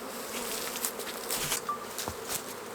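Feral honeybees swarm around a hollow being cut open for extraction, a dense continuous buzz with individual bees zipping past close by, no talking.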